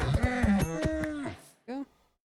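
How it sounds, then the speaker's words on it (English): A cow in the Fallout video game gives a long, loud moo, then a short second moo after a brief pause. "Cow."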